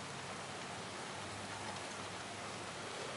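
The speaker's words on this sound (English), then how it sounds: "Kind of a drizzly day here in Washington, but not too big of a deal." A light drizzle falls outdoors on a grey day in Washington, a steady soft hiss of rain with no distinct drops, faint and even throughout, with no voices.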